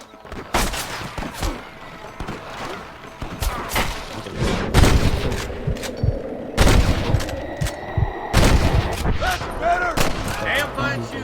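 Gunfire in the video game Red Dead Redemption during a sniper fight: repeated loud, sharp gunshots and volleys at irregular intervals, some booming, with a rising whoosh and game ambience between the shots.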